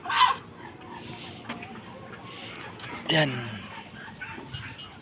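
Roosters fighting in a backyard farm cockfight, with sharp clucks and brief squawks over a low background bustle. A person speaks briefly.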